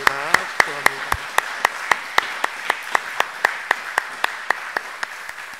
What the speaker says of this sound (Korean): 우리 박수함으로 우리 축복하겠습니다